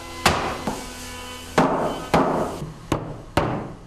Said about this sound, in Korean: 그러니 망치질이 끝없이 계속될 수밖에 없다.